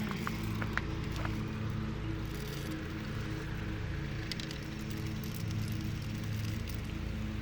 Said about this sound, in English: oh my God, the rain is coming.